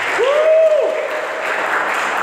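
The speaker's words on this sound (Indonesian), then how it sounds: "Boleh tepuk tangan untuk Tuhan kita Yesus Kristus." A church congregation applauds during a service, steady clapping throughout while a voice rises in a sustained sung or shouted tone near the start.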